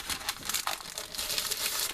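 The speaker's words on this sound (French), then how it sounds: "J'enlève, désolé pour le bruit du papier." Craft papers are unwrapped from crinkly packaging, giving continuous close, loud crackling and crumpling with a short tearing sound, alone without talk.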